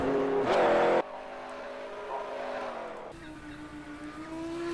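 Race car at Virginia International Raceway during an Alta Velocidade GT Series race, its engine droning steadily as it rolls down pit lane, with a louder burst at the start and a shift in engine tone partway through.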